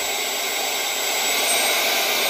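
A MECO mini cordless vacuum blower runs at full speed with a loud, steady, high-pitched jet-like whine and airy roar, close and unbroken.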